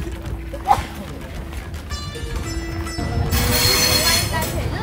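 A passenger train ride in New South Wales, Australia, with a rumbling carriage and a thin tonal wheel squeal that swells louder near the end. People talk over it.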